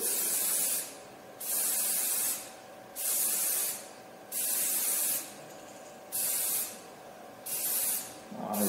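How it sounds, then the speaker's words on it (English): Short bursts of scanning spray coat a metal part being prepared for 3D scanning, six or seven evenly spaced hissing sprays of about a second each separated by brief pauses, close and clear with no talk. "I'm gonna spray that part again because I wanna get a better result"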